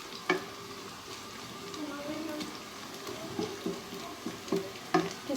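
Onions frying in a pan for a duck meat curry, a soft steady sizzle with a few sharp clatters of stirring. A voice talks quietly over the cooking.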